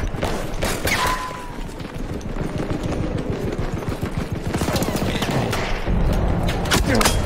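Rapid bursts of gunfire in the Battlefield 1 multiplayer video game, dense overlapping automatic and single shots with booms, loud and continuous across the whole stretch.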